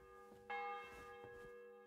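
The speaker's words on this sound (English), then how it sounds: "The bell's ringing" A church-style bell in the Fallout video game rings out with one clear struck peal that sustains and slowly decays, sounding moderately distant under faint game ambience.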